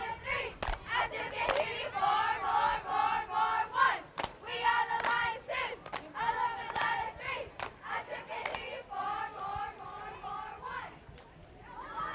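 Middle school cheerleading squad, the Zenith Hornersville Cheering Lions, chanting in unison at a fair parade: loud rhythmic group shouts in repeated bursts with claps and stomps, close by throughout.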